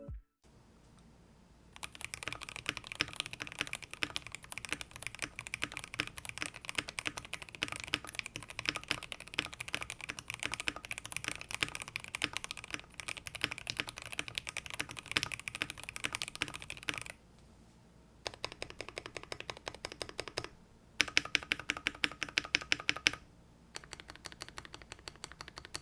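Close, steady typing on a Tofu65 custom keyboard fitted with Gateron Milky Yellow switches, dense keystrokes running for long stretches with brief pauses and short bursts near the end, no talking.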